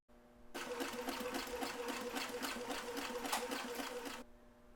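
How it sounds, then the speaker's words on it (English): A sewing machine stitches across overlapped ends of elastic while sewing a McCall's 7543 top, its rapid needle chatter running steady and close for about four seconds before stopping abruptly. "put your stitch in now."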